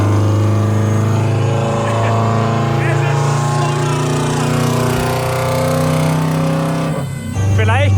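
A modified Subaru car engine idles steadily with a deep, droning exhaust note, loud and close, holding an even rumble throughout with a brief dip near the end; voices talk over it.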